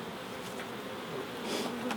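Honey bees at an open hive during a queen cell and honey check buzz in a dense, continuous drone, with a few louder individual bees passing close.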